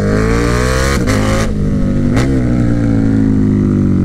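KTM Superduke 1290R motorcycle engine revving hard, a loud close roar with two quick throttle blips and pitch swings before settling into a steady high drone.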